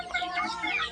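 Chickens cluck around their feed, several close, soft overlapping clucks and chirpy calls over a brief moment.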